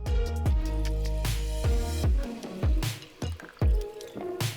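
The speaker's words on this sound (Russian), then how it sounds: "Открываем и заливаем в банку." Food-grade alcohol poured into a jar, heard as close, uneven glugging splashes and drips in quick irregular bursts.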